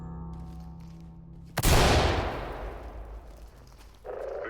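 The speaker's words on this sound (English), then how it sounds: "Open and clear with flashbangs." A flashbang grenade going off in the tactical shooter Ready Or Not: one sudden loud blast that rolls into a long hissing ringing decay, coming after a low hum, with no one speaking.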